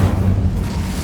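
Low rumbling magical blast from the Bombarda spell in a Harry Potter wizarding game, a deep booming burst that rolls briefly and fades.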